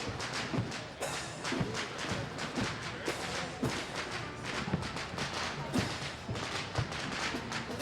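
Sharp bangs and pops of firecrackers going off repeatedly at irregular intervals at a Chinatown parade in Vancouver, some nearer and louder, over a dense crackling background.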